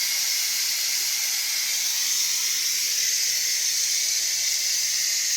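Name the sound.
steam escaping from cooking rice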